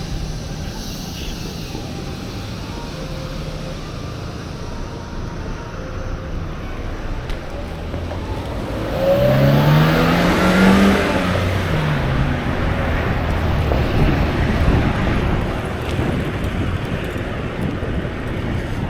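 A car on a downtown street passes close by, its engine rising and fading over several seconds amid steady traffic and wind rumble.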